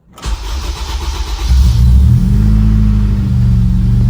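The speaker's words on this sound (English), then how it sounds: "So let's go ahead and start it up." A Honda K20 engine with bent valves cranks briefly, then catches and roars to life, settling into a loud, steady rumbling idle close by.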